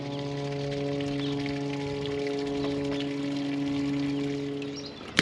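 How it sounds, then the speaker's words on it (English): Water flows through a water line into donkey runs with a steady pouring rush, while a constant tonal hum holds underneath and a brief knock sounds at the very end. "Now all the water is going to be flowing through into here"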